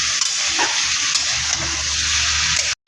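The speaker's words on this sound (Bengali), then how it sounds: "এবার খানিকটা নাড়িয়ে চাড়িয়ে নিচ্ছি মাংসটাকে আরও কিছুক্ষণ কষিয়ে নিচ্ছি" Chicken curry sautéing and being stirred in a pan, a steady close sizzle with bursts of hiss and occasional scraping, continuous and loud with no voices.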